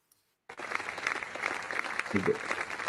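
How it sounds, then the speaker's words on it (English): Recorded applause played back during a talk, starting abruptly after a moment of silence and continuing as a dense, steady clapping from a crowd to the end. "This is the applause."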